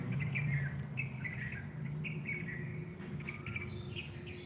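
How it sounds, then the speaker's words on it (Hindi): Birds sing outdoors in the morning, with repeated bright chirps and short warbling phrases over a steady low background hum, moderately faint and continuous with no voices. "पक्षियों की मधुर आवाज,"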